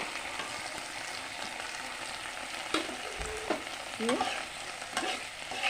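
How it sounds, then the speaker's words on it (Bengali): Chili paste sizzles steadily in a hot pan while preparing egg chilli, a constant broadband fry with a few soft stirring scrapes and clicks of a utensil, close and alone with no talk. "একটু হালকা ভেজে নেব চিলি পেস্টটা দিয়ে দেব"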